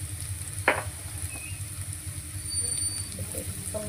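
Eggplant sizzling and frying in a pan while it is stirred up and down, with a steady low sizzle and a brief sharp scrape of the spoon near the start.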